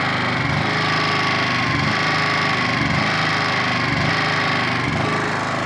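A Honda EP1000 portable generator engine runs steadily after the choke is released, with a constant, loud droning hum and a faint rhythmic pulse, with no talking.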